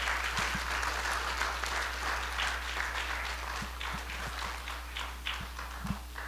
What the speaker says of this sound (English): So students, please give your teachers and principals a very large round of applause.